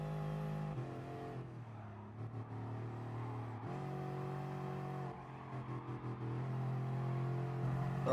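A race car in Gran Turismo Sport takes a curve, its engine droning and shifting pitch as it brakes and accelerates, with gear changes and steady revving under a quiet game mix.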